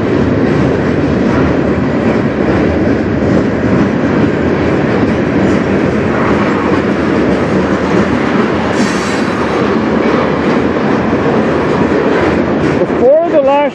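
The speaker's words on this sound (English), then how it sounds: "Train went" A CN freight train rolls past on the Strathroy Subdivision, its rail cars giving a loud, close, continuous rumble and rhythmic clickety-clack, with a brief wheel squeal near the end.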